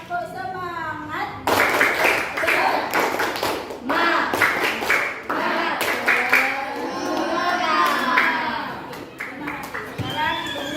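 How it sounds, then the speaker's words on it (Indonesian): A classroom group does a rhythmic Indonesian "tepuk semangat" spirit clap, bursts of clapping alternating with chanted voices and a teacher speaking over the claps. "dengan melakukan tepuk semangat"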